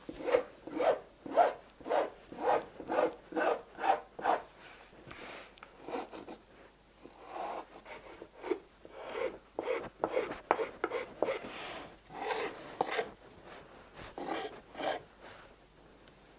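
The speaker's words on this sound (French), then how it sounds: "A l'aide d'une lime, j'enlève les éventuelles petites barbules qui peuvent rester du fraisage" A hand file works over routed fir wood edges, cleaning off small burrs. It makes about a dozen short, rhythmic rasping strokes up close, with brief pauses between some passes.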